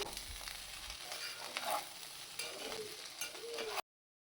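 Non-veg mixed fried rice with coriander stirred in a hot pan, a close continuous sizzle with scraping stir strokes, ending abruptly.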